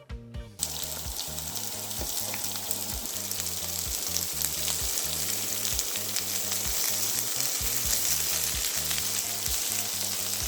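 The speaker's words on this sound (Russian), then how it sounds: "В разогретое растительное масло высыпаем лук. И морковку сразу туда." Onion and carrot dropped into hot vegetable oil, setting off a steady, close sizzle that stays loud and even throughout, with no voices.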